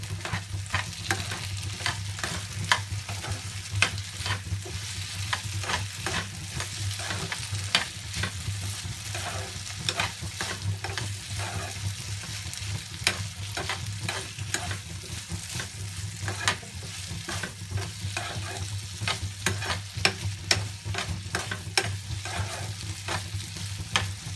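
Potatoes sautéed in a pan with turmeric and red chili powder sizzle continuously, broken by frequent spatula scrapes and taps against the pan over a long stretch, with no voice.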